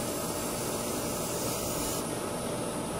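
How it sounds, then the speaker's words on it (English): A spray paint can hisses in one continuous, steady burst held close by, with no gaps and no voices. "You gotta spray straight down."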